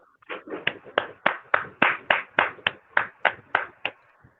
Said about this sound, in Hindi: एक बार पुनः जोरदार तालियां।